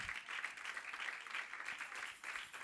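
A church congregation clapping along during a Spanish-language sermon on the Passion of Christ, a steady, fairly quiet patter of many hands with no one speaking over it.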